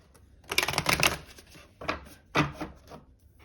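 Close riffling and slapping of a tarot deck being shuffled, a few short bursts of flicking paper separated by pauses, with no talking.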